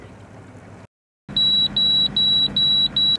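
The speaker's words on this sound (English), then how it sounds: "One of the features on our chart plotter is a target alarm, which we can set to a specific distance to warn us of approaching ships." A chart plotter target alarm on a sailboat warning of approaching ships sounds as a loud, repeated electronic beep in steady pulses, with boat noise humming underneath.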